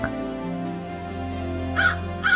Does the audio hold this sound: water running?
no